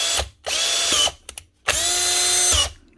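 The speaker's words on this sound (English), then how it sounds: "She's in drill mode and she's working." A rusty-chucked Makita cordless drill whirs in drill mode through three bursts, two short and one longer, each spinning up sharply and cutting off with quick clicks between, close and loud.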